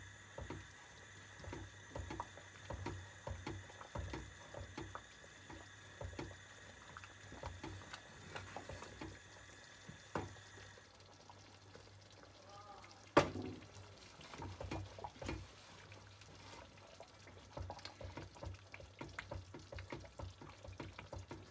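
Gluten-free cheese fondue with Gewürztraminer quietly bubbling and popping in a pot while being stirred, soft irregular crackles and small liquid blips over a faint steady hum, with one sharper clink partway through.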